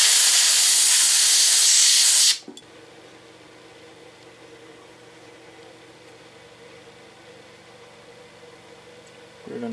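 Carb cleaner sprays in a loud, steady hiss onto a Quadrajet carburetor on a 1966 Chevy Biscayne big block, lasting about two seconds before cutting off sharply, followed by quiet background hum.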